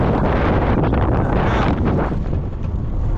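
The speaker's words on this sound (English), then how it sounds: "sorry for the windy because we have too much of the wind" Heavy wind roars and buffets the microphone continuously, loud and close, easing slightly near the end. No speech.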